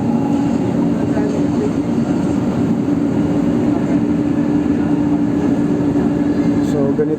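An MRT train running through Manila alongside the road, a loud steady rumble and rolling hum sustained throughout from on board.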